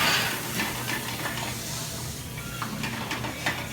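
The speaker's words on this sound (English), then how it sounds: "We're just heating up the shrimp right now." Shrimp heat in a hot pan in a Brooklyn restaurant kitchen, giving a continuous close hiss and sizzle, with brief bursts of spitting throughout.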